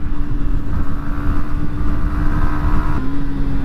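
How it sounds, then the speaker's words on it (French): A loud, close 2023 Yamaha 125cc motorcycle engine idles and drones through its stock exhaust with a throaty note, holding a steady pitch that dips slightly near the end. "le bruit de la ligne d'échappement"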